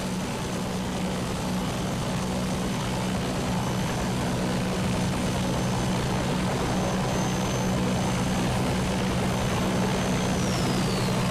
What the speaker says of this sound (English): Pretty distorted, the main rotor sound now.